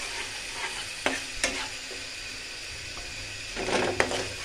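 Potatoes frying in spice paste with ginger and garlic, a continuous close sizzle broken by several scraping, stirring strokes of a spatula, the sizzle swelling louder near the end.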